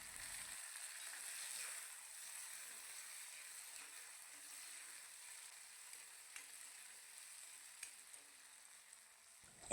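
Onion, ginger-garlic paste and tomato fry in a pan with a steady, soft hiss that goes on throughout, and a few faint clicks rise over the sizzle near the end.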